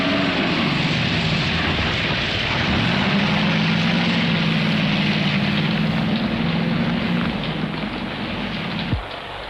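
A car engine drones steadily as the vehicle drives along a road, a continuous low hum holding level throughout with a brief thump near the end.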